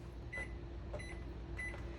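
Microwave clock button pressed in a 2024 Forest River Salem Hemisphere Hyper-Lyte travel trailer: three short electronic beeps, evenly spaced about two-thirds of a second apart, quiet and close over faint room hum.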